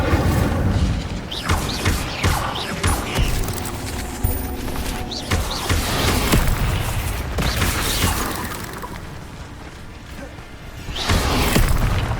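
Fire spell bursts in the Hogwarts Legacy game, several loud whooshing blasts and booming impacts among layered combat effects, one after another with short gaps.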